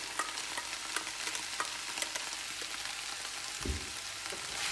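Pasta and peas are stirred into a hot pan, with a soft, constant sizzle and light scraping strokes of the spoon, close but fairly quiet, with no talking.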